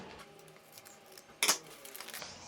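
Scissors cut fabric for a square-neck blouse with puffed sleeves, giving a faint quiet snip followed by a sharper, louder cut partway through and soft rustling after.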